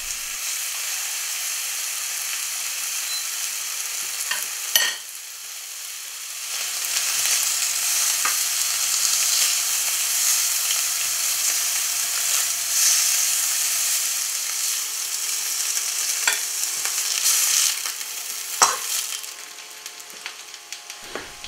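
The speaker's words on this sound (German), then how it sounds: "Wir braten so alle Putenschnitzel an und legen sie beiseite" Turkey schnitzel fries in an oiled pan with a steady, loud sizzle that runs continuously for about twenty seconds, broken by a few clicks and scrapes, with no talking.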